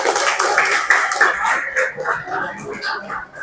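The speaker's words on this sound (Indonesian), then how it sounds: "Tepuk tangan lagi." Students at SMA Muhammadiyah 2 Pemalang clap their hands during a mental-strengthening session, a dense, steady patter of many hands close by, continuing without a break.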